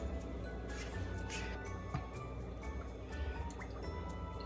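Coconut aminos poured over a Dijon mustard dressing give quiet, soft drips and small liquid splats, faint and close, with a few sharper droplet ticks along the way.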